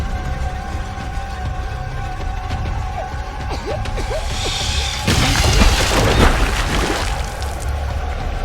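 A cart crashes down in the game The Beast Inside, a heavy booming crash with a splash-like burst about halfway through, over a steady ambient game background.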